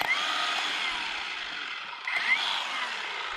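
A Milwaukee M18 Fuel rotary hammer pounds into a hard concrete ledge on a driveway, giving a steady, loud buzzing hammer drone that runs the whole time with a brief dip near the end.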